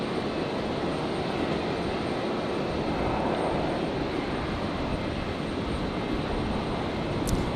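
A Jetstar airliner at Brisbane Airport produces an unbroken wash of engine roar. The sound stays steady and fairly loud throughout, with no voices over it.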